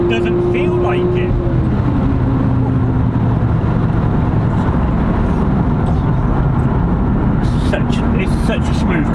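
A white Toyota Chaser driving, its engine a steady, close drone whose pitch climbs and falls through gear changes under continuous road and wind noise.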